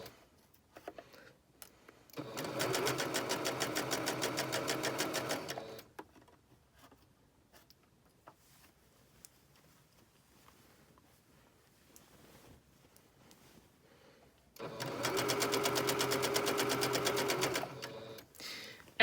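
A sewing machine stitching fabric in two steady bursts of rapid mechanical whirring and needle chatter, each lasting a few seconds, close and clear, with quiet handling pauses between them.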